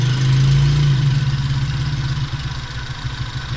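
A Toyota 4K carburetor engine idles at about 750 RPM, a steady low rumble with a regular pulsing beat that stays close and fairly loud throughout, with no voices.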